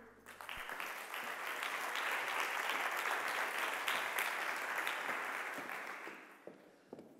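Sustained audience applause at a digital democracy participation conference, steady and full across the room, swelling in quickly and tapering off near the end with a few last claps.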